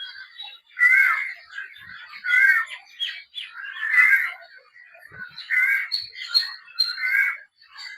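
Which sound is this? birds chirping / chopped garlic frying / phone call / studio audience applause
birds chirping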